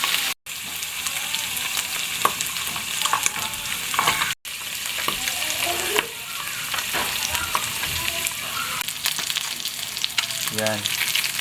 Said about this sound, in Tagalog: Prituin natin itong bangus.